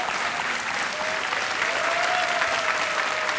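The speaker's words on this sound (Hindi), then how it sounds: "तालियां बजती रहनी चाहिए इनके लिए। तालियां बज जाएं।" Continuous studio audience applause on a televised quiz show set, dense and steady clapping throughout a few seconds with no break.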